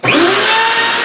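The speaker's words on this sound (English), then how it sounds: "so I've now got the two slots milled in my rail" Hoffmann dovetail machine milling a slot in a wooden rail, a loud, abrupt motor whine that spins up almost instantly and holds a steady high-pitched cutting roar for about a second.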